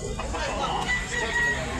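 A Pumpkin Sweater gamecock of derby size crows at a rooster market in Tabunok, Cebu, a moderately loud call over background murmur and a voice.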